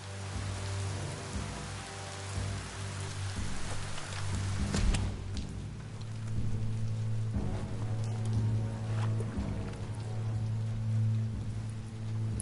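Steady rain falls in a PS5 video game, a soft even patter with faint drops, continuous and moderately quiet with no voices over it.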